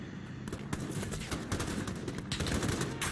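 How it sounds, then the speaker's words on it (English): Dense gunfire from the video game Call of Duty: Modern Warfare, a volley of sharp overlapping shots and bursts at uneven intervals, loud and close, filling about three seconds of battle noise. "He's shooting at me."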